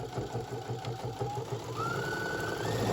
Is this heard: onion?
no